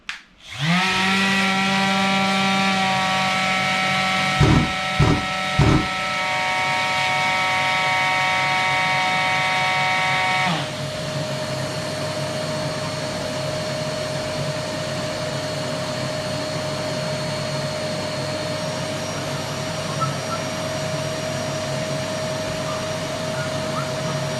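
A Bosch GAS 35 M AFC wet/dry extractor auto-starts with a Festool sander attached to its dust port, giving a loud, steady motor whine and a tonal hum that shifts and settles partway through, with a few short knocks early on.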